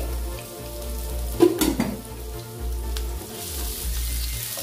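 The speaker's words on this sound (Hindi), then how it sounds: "जैसे ही तेल गरम होता है तो मैं प्याज, हम इसमें प्याज डालूंगा, हमें प्याज को फ्राई करना है।" Onions fry in hot oil, giving a steady low sizzle and bubbling that runs throughout, with one brief louder clatter of stirring near the start, close by and with no voices.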